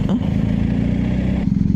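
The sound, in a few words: BMW motorcycle riding over a speed bump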